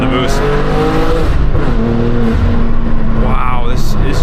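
BMW M2 G87 with a turbocharged engine and six-speed manual, pulling hard on the road as boost builds, a loud, continuous engine roar with rising harmonics and shifts, under occasional talk from inside the cabin.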